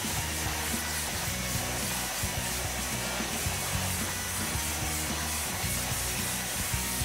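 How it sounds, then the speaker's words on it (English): An AIR-VAC vacuum excavator running on externally supplied compressed air, giving a steady, loud, unbroken rushing hiss of air with a faint low rumble beneath it. "Because the AIR-VAC operates on externally generated compressed air, it is much quieter in operation than traditional vacuum excavators"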